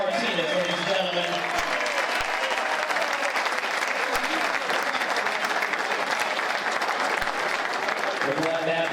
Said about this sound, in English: Let's give a round of applause for our honorary veteran, Mr. Ariel Martinez, ladies and gentlemen.